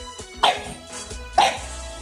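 A dog barks twice, about a second apart, each bark short and fairly close over a low room murmur.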